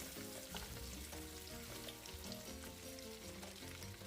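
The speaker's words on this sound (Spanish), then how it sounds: "La vas a freír, la vas a dorar por unos 2 minutos." Chopped white onion frying alongside pork ribs, a dense and steady sizzle that stays constant throughout, with no talk, under a continuous layer of background music.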